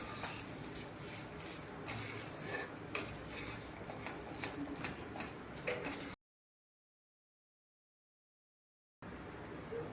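Cooled sesame seeds being stirred into a hot jaggery syrup for til vadi, giving close, steady scraping and clinking of a spoon against the pan for about six seconds, then a silent gap before the stirring resumes.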